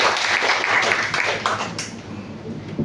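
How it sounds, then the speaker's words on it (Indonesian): A church congregation claps together during a service, a busy run of overlapping handclaps that thins out toward the end, with some voices mixed in. "Boleh tepuk tangan buat Yesus."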